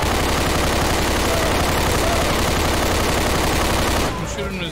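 Loud, dense, sustained automatic gunfire from the Left 4 Dead 2 video game pours out in a continuous roar, then drops off abruptly near the end, leaving quieter scattered noise.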